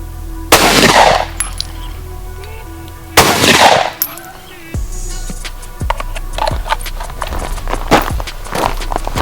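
Two loud, close gunshots from a 9mm pistol and an AR-15 rifle fired at pig meat outdoors, a few seconds apart, followed by lighter scattered clicks and handling noises.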